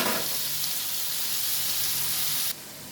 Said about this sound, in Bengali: দেখো পেঁয়াজটা অর্ধেক ভাজা হয়ে গেছে